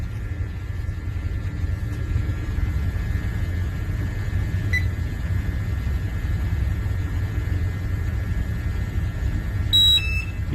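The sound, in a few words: oxygen gas meter alarm beeping, hazardous atmosphere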